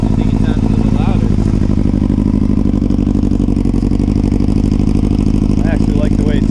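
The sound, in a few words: 2005 Yamaha YZF600R Thundercat engine with Delkevic exhaust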